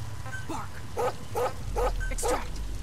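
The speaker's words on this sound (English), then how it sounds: "Bark." A dog in Metal Gear Solid V: The Phantom Pain gives a run of four or five short barks at a steady pace, set against a low background rumble.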